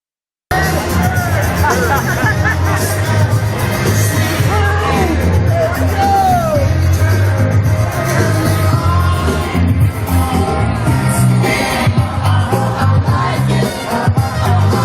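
A large crowd at a George Floyd protest in the United States shouts and yells, with overlapping voices, whoops and occasional bangs forming a loud, continuous outdoor roar.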